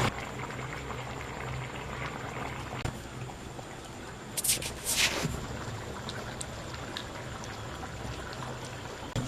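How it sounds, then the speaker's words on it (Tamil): A pot of dried fish and eggplant curry bubbling and simmering steadily up close, a continuous soft wet boiling texture with a couple of brief louder hisses midway. "கருவேட்டு குழம்பு நல்லா கொதிக்குதுங்க"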